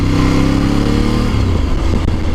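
A Ducati 848 Evo sport motorcycle engine running loud and close, a steady deep rumbling drone with a slight rise in pitch partway through, with no voices.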